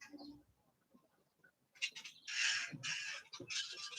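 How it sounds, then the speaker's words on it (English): Big black grackles calling from a back porch setting, a few loud harsh squawking bursts in the second half after quieter scattered chirps, fairly close and with no talking. "Those are those big black birds, the grackles. They're very noisy."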